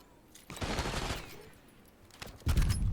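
Gunfire in the Black Ops 6 video game, a burst of rapid automatic shots followed by a lull and then a heavier, louder volley at the end, heard without talking.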